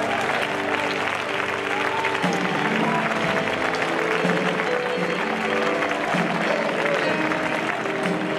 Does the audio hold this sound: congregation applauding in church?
yes